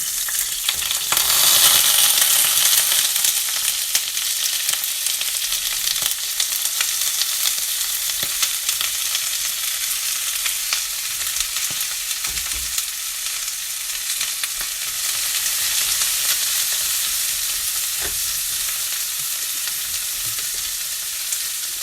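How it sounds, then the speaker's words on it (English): Peppers and onions fry in a pan with a loud, steady sizzle and crackle, broadband and continuous throughout, with occasional stirring scrapes and no talking. "here is where we're going to add the peppers and the onions to our pan"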